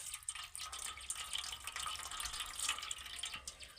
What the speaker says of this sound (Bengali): এখন আমি অল্প জল দিয়ে ছানাটাকে ধুয়ে নেব